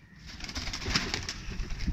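Teddy pigeons, a breeding pair with young, give soft continuous cooing close by, a low murmuring that runs through the whole moment with no talk.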